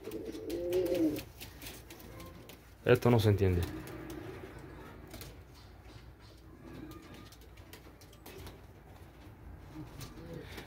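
A pigeon on a balcony gives a few low coos near the start and a louder burst of cooing about three seconds in. Someone talks quietly over the sounds.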